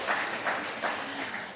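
A church congregation applauds a newly welcomed community minister, with steady, moderately distant clapping that swells in soft waves throughout.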